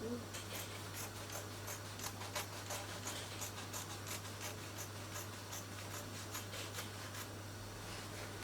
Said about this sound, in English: I'm cutting out the back neckline.